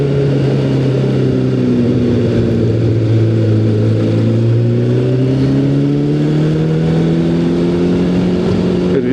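A Suzuki motorcycle engine runs loud and close at a steady idle, its smooth tone drifting slightly in pitch, with nothing else heard.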